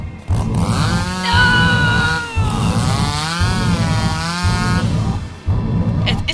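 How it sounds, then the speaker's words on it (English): A chainsaw in the horror video game Misao runs loud and close, its engine revving and dipping in repeated surges, with no talk over it. "It's a chainsaw."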